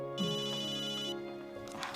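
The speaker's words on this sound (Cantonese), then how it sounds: "我聽電話先。" A telephone bell rings in a Hong Kong TVB drama scene, one steady bright ring lasting about a second over a soft background, with no talk during it.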